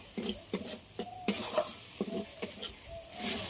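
Spice paste with salt and turmeric is stir-fried in a pan, with a spatula scraping and knocking against the metal in a steady, repeated rhythm under a soft sizzle, close by.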